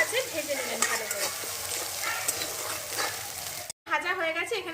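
Garlic masala sizzles and fries in a pan while being stirred, a steady close crackling hiss with scraping strokes, cut briefly near the end before the sizzle resumes.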